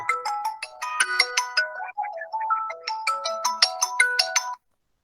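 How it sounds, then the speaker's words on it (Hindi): A mobile phone ringtone goes off in the middle of a quiz competition, a bright melodic tune of quick repeated notes that plays for several seconds and then cuts off abruptly, with no talking over it. "सर किसका फोन आ रहा है सर?"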